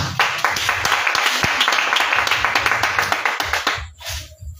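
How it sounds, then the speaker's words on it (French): A French-speaking congregation at an Easter prayer vigil applauds in a dense, steady wave of clapping that holds strongly for about four seconds, then quickly thins and fades out. "On acclame le Seigneur Jésus"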